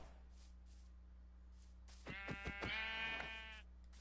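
A Minecraft sheep gives a short, wavering bleat, close and moderately loud over a low steady hum, preceded by a few faint sounds.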